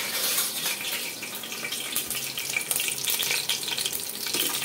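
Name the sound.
stirring spices frying in a pot with a ladle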